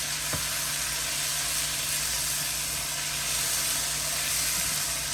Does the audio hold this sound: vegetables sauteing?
yes